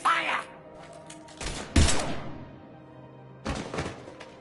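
Gunfire in the video game Mass Effect 3 comes as a few scattered, muffled bursts and thuds spread over a few seconds, under game dialogue.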